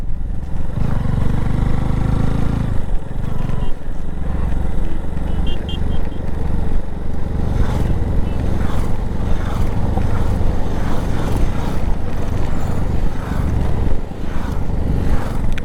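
Convoy of motorcycles riding a mountain road in Ladakh on the way from Leh to Pangong Tso, with a steady loud engine drone and wind rumble running throughout.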